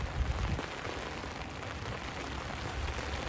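Steady rain pattering on a cover, a constant dense hiss with soft low drumming, no voices.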